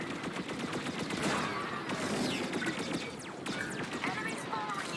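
Rapid bursts of starfighter laser fire hammering a ship during a Star Wars Squadrons space battle, dense crackling volleys with sharp impacts over layered engine and effect noise.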